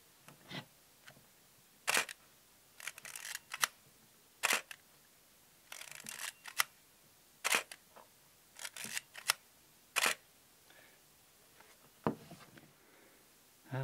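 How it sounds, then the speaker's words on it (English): A Kowa SE film camera's shutter fires again and again, about a dozen sharp, close mechanical clicks at irregular intervals, some with a short winding rasp, set against quiet. "So let's just do the sound of the shutter."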